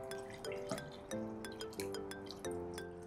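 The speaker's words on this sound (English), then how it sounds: "Let me pour the water first." Water poured into a drinking glass, with several bright clinks of glass and dripping splashes in short bursts, close and fairly quiet.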